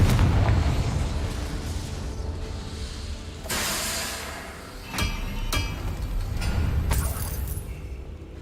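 A Confringo explosion spell goes off in the Hogwarts Legacy video game, a broad burst with a sharp crack and a few smaller booms that follow under steady game ambience.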